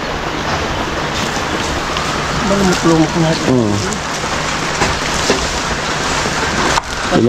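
Rain falling outdoors during digging at a house, a steady hiss of drops throughout with brief tonal chirps and knocks partway through.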